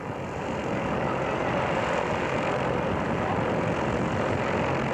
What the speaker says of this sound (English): helicopter will give us a little demonstration of its versatility here